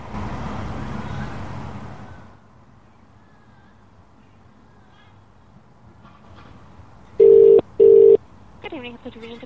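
A telephone is dialed for a call to a hotel, with two loud steady tones followed by shorter warbling tones after a stretch of quiet, some outdoor background noise beforehand.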